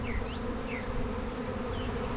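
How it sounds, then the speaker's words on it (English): A honeybee swarm gathering on a tree trunk makes a steady, dense buzzing that fills the whole stretch, with individual bees whining past close by now and then. "The bees are actually right there on the trunk of this tree."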